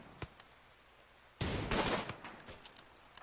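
Colonists trading gunfire in the RimWorld video game: a lone faint shot early, then a loud burst of overlapping shots around the middle, trailing into scattered lighter cracks.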